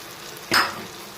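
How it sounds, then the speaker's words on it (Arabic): Rice frying in ghee with spices gives a brief, soft burst of sizzle as it is stirred, over a low constant kitchen hiss. "نفضل بقى نقلب فيه ونشوح فيه عشان لغايه ما الرزايه كده بتاخد لون، تتشمع من السمنه والتوابل"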